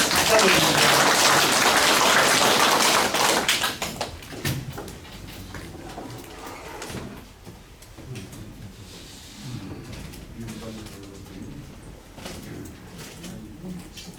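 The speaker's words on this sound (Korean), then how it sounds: "가장 중요한 나를 위해서 큰 박수 한번 치고 시작하겠습니다." Loud applause from a group at an agricultural training session on growing pepper seedlings bursts out for about four seconds, then fades into quieter room noise and a voice speaking.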